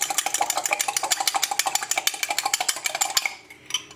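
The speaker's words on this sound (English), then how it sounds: "I'm just going to whisk those up to the fork." Eggs whisked with a fork in a measuring jug for a marble pear tray bake, fast regular clinking strokes against the jug, close and fairly loud, slowing and stopping near the end.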